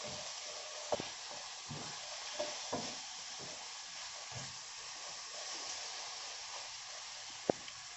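Tomatoes frying and being stirred in a pan for fried bangus with black beans give a steady sizzle, with a few sharp clicks of a spoon against the pan near the start and end.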